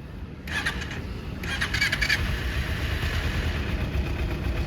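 A motorcycle engine catches and settles into a low, steady idle, a soft continuous rumble with faint birdsong in the background.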